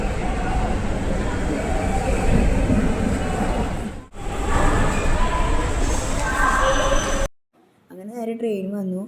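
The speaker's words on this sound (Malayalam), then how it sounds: "ട്രെയിൻ വന്നു. നമ്മൾ മെമു എടുത്ത് ലേഡീസ് കമ്പാർട്ട്മെൻറ്റിൽ കയറിയിരുന്നു." A MEMU commuter train pulls into a Kerala station, a loud steady rumble of wagons with a brief dip midway, then the noise cuts out abruptly as a voice speaks near the end.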